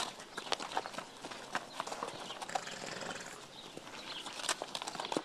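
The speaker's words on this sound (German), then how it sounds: "Es sind Nokota-Pferde" Nokota horses walk along, their hooves clip-clopping in a steady, busy rhythm of overlapping steps, fairly close and moderately loud against an open-air background.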